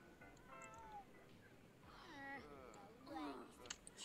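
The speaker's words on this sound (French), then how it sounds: "Et là, le chat arrive." A cat meows in The Sims 4 game, giving a few drawn-out, wavering cries that grow louder near the end, accompanied by game sounds.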